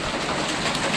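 Hail and rain pelt down steadily in a windstorm, a dense, continuous wash of pattering and hissing close by with no voices.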